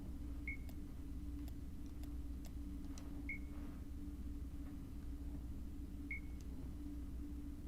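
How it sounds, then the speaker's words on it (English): Short electronic beeps from a tracking device in the video game Dreamfall Chapters, three brief tones spaced a few seconds apart over a steady low rumble. "It's beeping."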